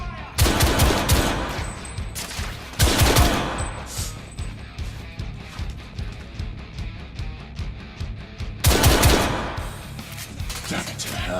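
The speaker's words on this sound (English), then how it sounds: "Open fire!" Rapid automatic gunfire in The Order: 1886 on PS4, a tunnel firefight with heavy bursts near the start, around three seconds and near the end, separated by quieter stretches of scattered shots and rumble.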